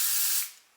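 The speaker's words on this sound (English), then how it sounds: "I'm gonna use this thick, dry finishing spray" A can of thick dry finishing hair spray releases one short, close, bright hiss that holds steady and then tapers off as the nozzle is released.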